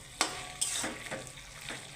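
Eggplant fries in a pan with a soft, steady sizzle, broken by a few quick stirring scrapes of a spatula spaced across a brief moment.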